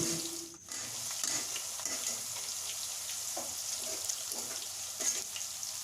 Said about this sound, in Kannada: ಚಟಪಟ ಚಟಪಟ ಅಂತ ಸಿಡಿಬೇಕು ಚೆನ್ನಾಗಿ ಡ್ರೈ ಆಗಬೇಕು